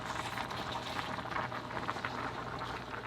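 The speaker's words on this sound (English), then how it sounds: "we're gonna give this a chance to simmer" A pot of spaghetti meat sauce with ground meat simmers steadily, giving a continuous close bubbling and popping texture with no voices over it.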